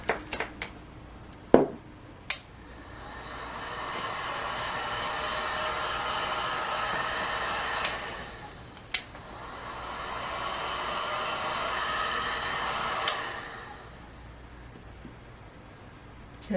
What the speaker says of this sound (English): let's go ahead and use the heat gun